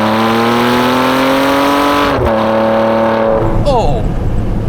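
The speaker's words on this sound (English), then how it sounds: "Let's get the car straightened up and apply some right foot." A Ferrari 599 GTB Fiorano's F140 engine accelerates hard from inside the car, a loud rising howl that climbs in pitch, drops abruptly at a gear change, then pulls upward again.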